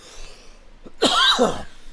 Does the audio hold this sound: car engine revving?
no